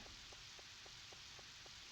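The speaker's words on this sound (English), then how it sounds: "It's raining, so Rick's shop's gonna be closed." Steady hiss of rain in the video game Harvest Moon 64, fairly quiet and constant, with a faint repeating soft tick at regular intervals underneath.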